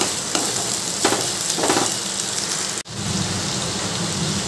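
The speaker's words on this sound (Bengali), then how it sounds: "আবারও ভালো করে ভাজা ভাজা করে নেব" Gathi kochu (taro) fries in a pan of hot oil with a loud, steady sizzle, broken by a few stirring scrapes and one brief dip in the hiss before it resumes at full strength.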